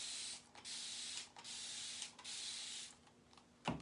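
Aerosol paint hisses in several short bursts onto an etched butterfly, each spray a steady close blast separated by brief pauses, ending with a sharper knock.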